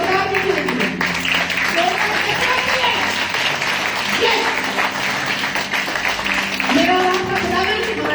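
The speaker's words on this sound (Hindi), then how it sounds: "एक जोरदार तालियां बजाएं खुदावंद यीशु मसीह के लिए" A church congregation claps loudly and continuously in a dense, sustained burst, while a preacher's amplified voice talks over the applause throughout.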